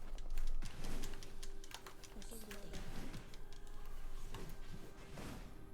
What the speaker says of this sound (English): my cat's sitting on my keyboard